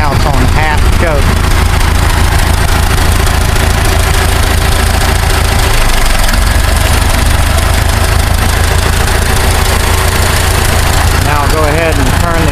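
An Adams motor grader's diesel engine runs on half choke, a loud, close, rough idle with a continuous low rumble and rhythmic knocking that persists throughout, with no talk over it.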